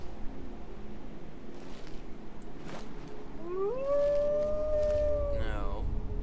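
Wolves in the game Skyrim let out a long, rising howl that holds and then wavers off, heard faintly over a quiet, breathy game background.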